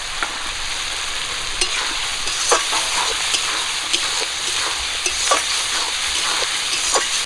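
Potatoes frying with ground cumin, red chilli paste and turmeric in a pan, a steady soft sizzle with scattered sharper crackles and occasional stirring clicks, moderately quiet and close.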